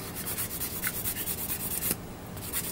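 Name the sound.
sanding down a Gundam plastic model part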